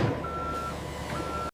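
A refrigerated truck sounds its steady reversing beeper at a seafood processing plant, a long sustained electronic tone over continuous engine and yard rumble, ending in a sharp thump.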